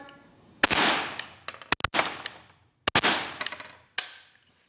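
Suppressed 7.62x39 rifle with a Huxwrx Ventum suppressor on the open gas setting, firing subsonic ammunition at night: several sharp, close shots in uneven bursts, each with a clattering metallic action and a short hissing tail, no talking.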